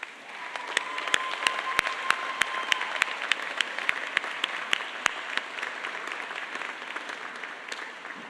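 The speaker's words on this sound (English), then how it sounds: "please join me in a round of applause for all of them" An audience applauds at a 2022 graduate commencement ceremony, a steady dense wash of clapping lasting throughout with a few sharper individual claps standing out, moderately loud and without speech.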